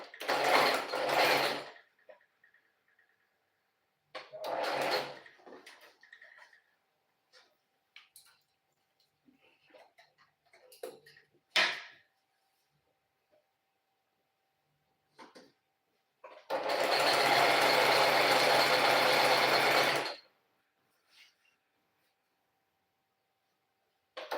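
A sewing machine stitches fabric in several short runs with gaps of quiet, ending in a long loud stretch of about four seconds of continuous whirring.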